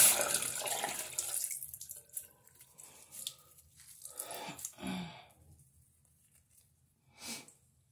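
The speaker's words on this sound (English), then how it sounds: "rinse it off one more time with good warm water." Warm water runs from a tap at first for rinsing a face, then drops to lighter splashes and intermittent trickling, with a few brief rinsing gushes later.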